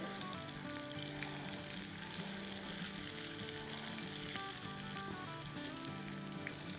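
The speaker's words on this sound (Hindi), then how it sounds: "अब इसमें डाल देंगे एक टीस्पून कश्मीरी लाल मिर्चें चूल्हा हमारा बंद है और इनको अच्छे से मिला लेंगे" Kashmiri red chili powder is stirred into a hot mixture in a pan with the stove off, giving a steady, close crackling sizzle that runs throughout, with light stirring scrapes and music playing underneath.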